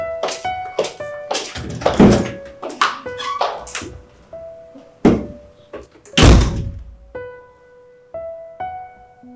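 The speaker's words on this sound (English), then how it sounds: "Please close the door." A door is pushed shut in an indoor drama scene, giving dull wooden thunks and clunks among several knocking impacts, with soft sustained tones ringing between the hits.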